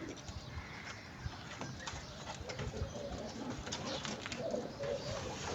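Pigeons coo softly and repeatedly in a loft, faint and close, with low rustling throughout and a small click at the end.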